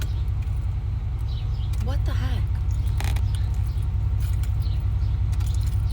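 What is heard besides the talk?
old GMC farm truck engine running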